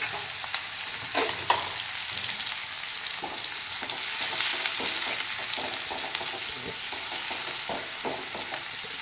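Chopped onion frying with cumin in a pan for a ridge gourd curry, a steady close sizzle with scattered clicks and scrapes of stirring, no voices.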